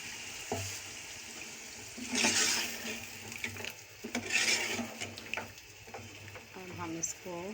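Korma gosht in a pan being stirred and sizzling after a splash of water is added, with bursts of hiss and clatter over steady frying noise, under a voice talking.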